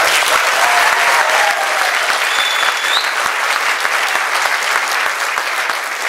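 Applause from the audience at an energy fair keynote, steady and dense throughout, with a few faint whistles or cheers rising above the clapping.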